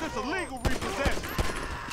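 Rapid SMG bursts in Grand Theft Auto 5, several sharp cracks fired in quick succession close by, with a voice talking over the opening moments.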